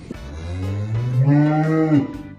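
Jersey cross cows in a field give one long, loud, close moo that rises and holds steady, with no talk over it.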